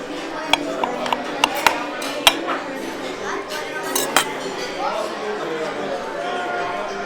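A knife and fork scrape and clink on a plate as a steak with chimichurri sauce is cut at a restaurant table. Sharp metallic ticks sound at irregular moments under a steady murmur of dining-room chatter.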